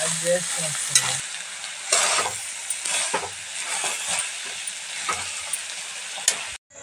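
Corn ghugni frying in a pan while being stirred, a constant close sizzle and hiss with repeated scraping stirs and light clinks of the spoon, and no voices.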